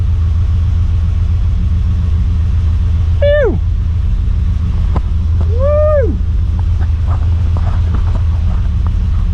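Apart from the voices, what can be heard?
Ford Falcon 351 V8 engine running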